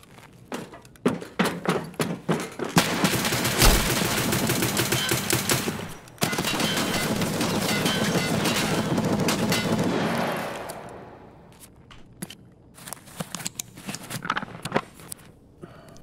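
Heavy gunfire in the video game Escape from Tarkov, starting with scattered single shots that build into a long, loud sustained volley, then fading to sparse distant cracks and thuds.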